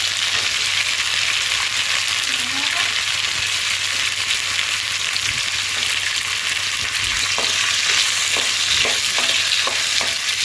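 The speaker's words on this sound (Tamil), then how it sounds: "நம்ம கத்திரிக்காய், முருங்கைக்காய் இது ரெண்டுத்தையும் கட் பண்ணி வச்சு கழுவி வாஷ் பண்ணி வச்சதை எடுத்து உள்ளே ஆட் பண்ணிக்கலாம்" Brinjal and drumstick pieces fry in a hot pan for a village-style karuvadu kuzhambu, giving a steady loud sizzle with occasional scraping stirs toward the end and no voices.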